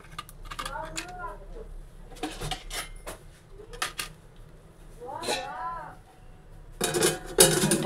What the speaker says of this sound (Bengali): ঢাকা দিয়ে রেখে দিলাম